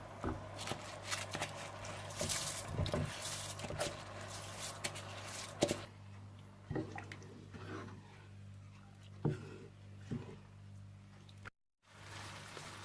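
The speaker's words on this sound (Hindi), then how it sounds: "जब पानी में बॉयल आ जाए तो आप चावलों में से पानी निकालकर चावल इसमें डाल दीजिएगा" Soaked, drained rice tipped into a pot of boiling water for shahi chargha pulao, giving soft wet patters, splashes and bubbling that fade into quieter scattered drips and plops over a steady low kitchen hum.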